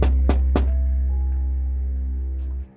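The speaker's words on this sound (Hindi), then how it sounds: "खिड़की पर किसी के खटखटाने की आवाज सुनाई दी" Two quick, hollow knocks on a window open a horror scene, sounding close and sharp over a deep, steady drone that hums on and then cuts off.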